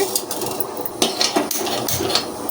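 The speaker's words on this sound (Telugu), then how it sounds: "పక్కన స్టవ్ వెలిగించుకొని ఒక బాండ్లు పెట్టుకొని ముందుగా మెంతులు వేసుకోవాలి." Metal pan set down on a stove with fenugreek seeds tipped in, heard as a few close clanks and scrapes followed by light rattling over a steady background hiss.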